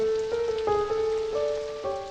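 Steady rain falls throughout, a soft continuous patter under sustained musical tones.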